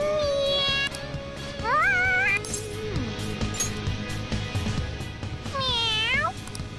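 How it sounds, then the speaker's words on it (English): A cat in a video game meows loudly twice, long rising and falling cries near the start and again near the end, over a background of game music and effects. "All right, that's enough, you stupid cat."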